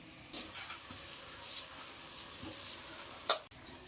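Soaked rice being added to hot oil with soya chunks in a home kitchen: a soft, steady sizzle with intermittent stirring scrapes, faint overall, and one sharp metallic clink near the end.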